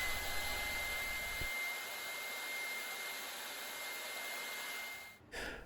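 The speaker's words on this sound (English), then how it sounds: "it's a very simple matter to flick it over and run it at high speed of 240 RPM" A magnetic drill switched to its high-speed setting of 240 RPM gives a steady, even motor whine with a constant tone throughout, alone and fairly quiet, then cuts out abruptly near the end.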